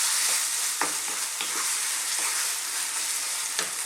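Moussaka sauce simmers on low heat with a steady soft sizzle, while a spoon scrapes through it a few times in brief strokes.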